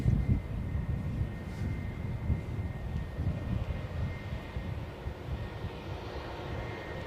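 Airbus A319 airliner taxiing at Edinburgh airport, a steady low engine rumble and roar at moderate distance, buffeted lightly by wind, with no talk.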